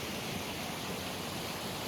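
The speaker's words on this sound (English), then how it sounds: "This is an unmarked stream. Has no name, but it's got a gorgeous waterfall in a little gully." A waterfall in a small gully on an unnamed mountain stream gives a steady, even rush of falling water, fairly faint and unbroken, with no voices.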